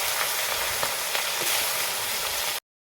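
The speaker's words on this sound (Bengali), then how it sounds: "এরপর আমি মাছের মাথাটা ভাজবো, একে একে দিয়ে দেবো।" Fish heads frying in hot oil, a close, even hissing sizzle with faint crackles for under three seconds, then cutting off to silence.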